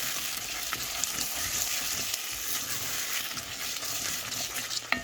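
Sauce simmering and sizzling in a pan on the stove after white pepper, thyme and Maggi seasoning go in, with steady soft frying crackle and occasional spoon scrapes as it is stirred, no voices.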